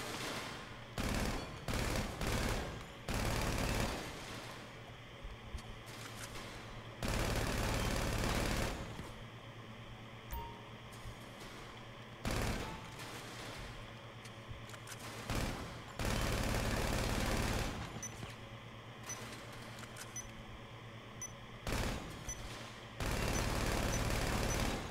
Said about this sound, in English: Okay, this is my favorite gun.